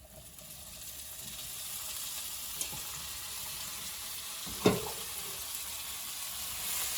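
Strained kidney beans, for a keto rajma curry with black soybeans, hit a hot pan and sizzle, a steady low frying hiss with one sharp clatter of beans landing midway, quiet and close, with no speech.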